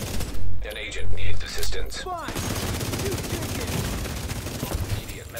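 Gunfire from NPC enemies in The Division on a legendary-difficulty mission, starting with a few loud separate bursts and then turning into a dense, continuous stretch of distant rattling fire, with a voice talking over part of it.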